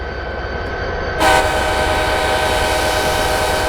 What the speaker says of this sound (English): we have another passenger train arriving from the south